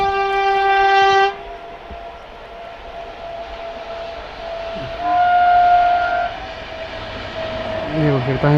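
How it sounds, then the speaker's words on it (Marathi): A train horn blasts briefly, then a train passing a railway level crossing rumbles steadily nearby with a second horn and squealing wheels, voices faint in the background. "रेल्वे फाटक आहे योग एक चांगला होता आपल्याला रेल्वे पाहायला मिळाली"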